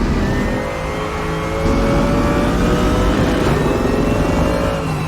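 A GT3 race car in the Raceroom racing game at Laguna Seca holds a steady, loud engine drone with harmonics and bounces against the rev limiter, giving a harsh buzzing stutter throughout, with no one talking.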